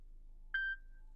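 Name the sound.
Honda Civic infotainment beep for Android Auto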